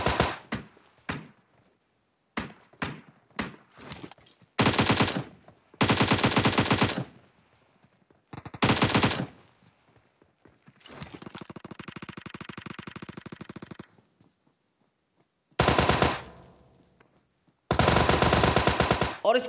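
Bursts of automatic gunfire in PUBG crack out loud and close, separated by silent gaps, mixed with a few single shots and a longer steady mechanical stretch.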